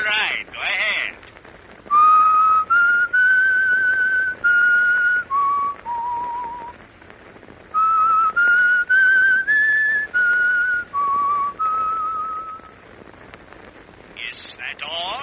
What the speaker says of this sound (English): I'll whistle the tune for you over the telephone